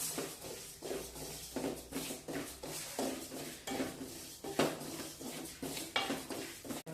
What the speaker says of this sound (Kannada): ಈಗ ನಾನು ಅದಕ್ಕಾಗಿ ಇದನ್ನ ಸಣ್ಣ ಉರಿ ಒಳಗನ ಹುರ್ಕೋಬೇಕು ನೋಡ್ರಿ ಕರಿ ಎಳ್ಳನ್ನು